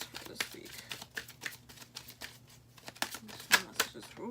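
Tarot cards shuffled by hand make a quick series of soft, close riffling and flicking bursts in an irregular rhythm against a quiet room.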